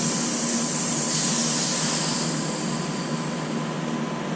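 Compressed air hisses steadily out of the open drain valve on a McGraw 20-gallon 135 psi air compressor, a loud, even rushing sound that holds without a break for a few seconds.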